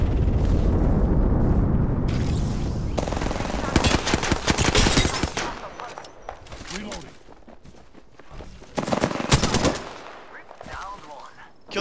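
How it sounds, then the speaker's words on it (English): Airstrike explosions and gunfire in Apex Legends, dense bursts of rapid shots and booming blasts crowding together, loud and close, with players talking over the chaos. "Signaling an airstrike."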